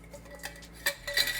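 A spoon scrapes and clinks against a pot while stirring shiitake mushrooms and oats over high heat, a few brief metallic knocks and scrapes, close and fairly quiet.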